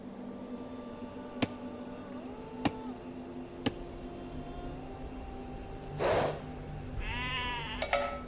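In the video game Age of Empires II: Definitive Edition, sheep bleat near the end. The wavering, moderately loud cries follow sparse interface ticks and low background game sounds. Nobody speaks.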